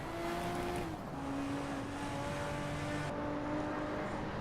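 Time attack Toyota Supra race car in a Hot Wheels video game, a steady engine drone with shifting tonal pitch and continuous road noise, loud and close, no talking.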